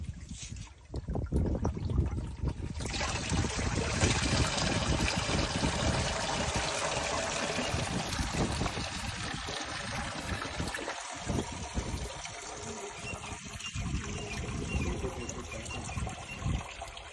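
Jivamrut liquid fertilizer trickles and splashes from a tank's opened valve into a container below, a steady loud wash of running liquid with clattering handling noises in the middle.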